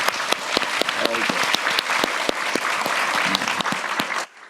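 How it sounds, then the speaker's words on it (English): Audience applause thanking speakers at a Harvard China education forum, with sharp individual claps standing out crisply over a dense crowd patter, sustained throughout before cutting off abruptly near the end. "Please join me to give another round of applause to thank our speakers for today."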